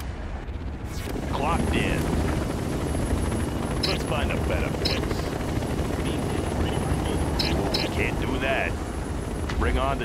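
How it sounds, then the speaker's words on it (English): Heavy gunship helicopter from the game C&C Generals Zero Hour flies with a steady chopping rotor rumble and wind-like wash, while short voice lines and game chatter cut in over it. "Heavy gunship airborne."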